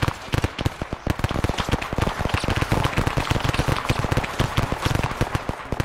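Dense, rapid gunfire crackles nonstop in the DCS World video game, sharp close pops overlapping in fast irregular bursts with no pause.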